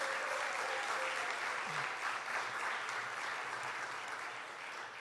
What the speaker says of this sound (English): let's give another round of applause to our great secretary